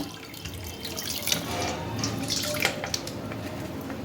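Cold tap water runs steadily over chhena, fresh curd cheese, in a strainer. The splashing and trickling is close and continuous, with small drips and swells, and no one speaks.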